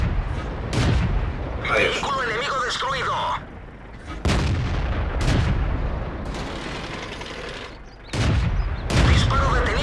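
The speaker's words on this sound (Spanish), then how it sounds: "Disparo detenido por el blindaje" Tank cannon shots in World of Tanks, played with an American M10 Wolverine tank destroyer: several heavy booming blasts at irregular intervals with rumbling battle noise in between, and someone briefly speaks.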